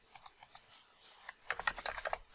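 Keys on a computer keyboard are pressed to enter Ctrl+F5: four light, evenly spaced taps, a short pause, then a quicker cluster of crisper clicks, all close and alone in a quiet room.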